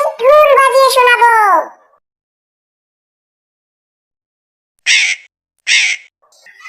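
In a Bengali cartoon story, a crow gives two loud, harsh caws in quick succession after a stretch of silence, following an opening burst of speech.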